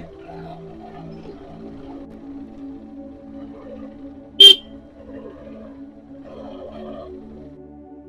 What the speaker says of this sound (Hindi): भाई ये हॉर्न दिया मोटरसाइकिल वाला